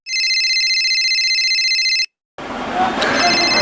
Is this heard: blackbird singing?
no